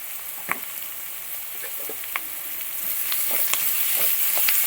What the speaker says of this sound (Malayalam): സവോള അരിഞ്ഞത് ഇട്ട് കൊടുക്കുക. ഇളക്കി കൊടുത്തു.